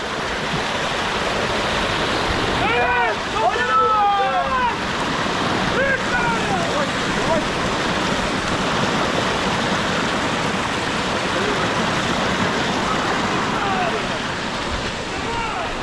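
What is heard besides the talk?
large waterfall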